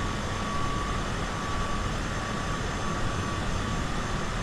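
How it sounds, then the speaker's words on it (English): Propeller aircraft in reverse thrust within the flight simulator game MSFS2020, a steady dense roaring drone with a faint thin whine, constant and loud throughout with no voices. "Characteristic reverse thrust sound."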